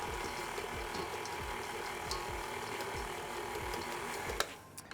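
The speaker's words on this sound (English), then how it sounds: "We're going to put this chocolate into the mixer and just let it go on low until it's incorporated." Stand mixer running on low, blending chocolate into crumbly vegan cookie dough, a steady close mechanical whir with a rhythmic knocking beat that stops abruptly near the end.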